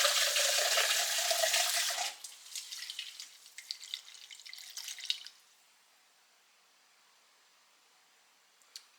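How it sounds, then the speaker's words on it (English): Water gushes from a tap over tomatillo seeds for a couple of seconds, then splashes and drips irregularly before fading to near silence. "I am going to go ahead and rinse this a few more times until the water is running clear"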